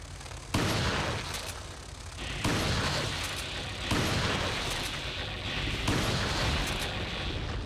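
Gunshots in Resident Evil 4 on the Nintendo GameCube hitting four enemies, four heavy, booming blasts spaced about one and a half seconds apart, each with a long ringing tail over a constant rumbling game background.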